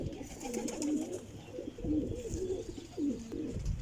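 Flying pigeons coo quietly and close by in three repeated, throaty phrases spaced about a second apart, with soft rustling between them and no talking.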